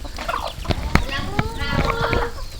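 Farmyard chickens cluck and squawk nearby in rural Thailand, several short calls and a drawn-out rising cackle amid scattered thumps, while people talk in the background.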